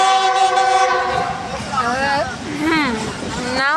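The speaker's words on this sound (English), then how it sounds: "the speed of the train is now coming to the low point" A train rolls along with a loud, continuous rumble up close, while sustained wailing tonal sounds rise and fall over the running noise.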